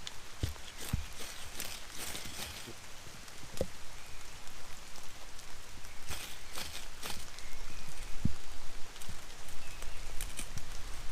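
Steady rain patters on a woodland bushcraft shelter, with irregular louder drips and knocks standing out against a constant close wash of falling water.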